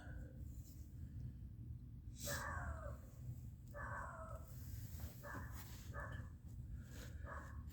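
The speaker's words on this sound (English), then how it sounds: "And there goes my neighbor's dog again." A neighbour's dog barks at a distance outdoors, several short bursts of barking in loose groups over a low steady background rumble, faint rather than close.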